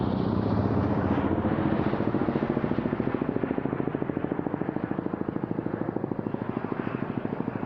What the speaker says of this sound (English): The small, fast and agile single-seat Kamov Ka-50 was designed to replace the Mi-24 Hind